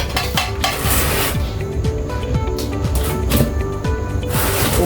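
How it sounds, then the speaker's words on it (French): A pot of traditional Coki is stirred after red oil goes in, giving a continuous close clatter and scrape of the utensil against the pot, busy and even throughout, with no voices. "je vais tourner"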